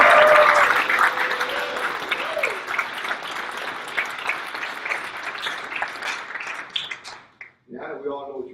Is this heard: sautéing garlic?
no